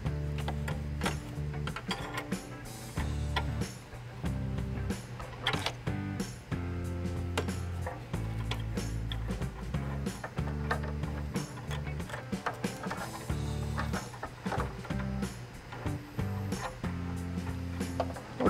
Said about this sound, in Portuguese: nós estamos utilizando uma ferramenta própria, especial, no formato de um soquete, para retirarmos esta sonda Lambda da sua posição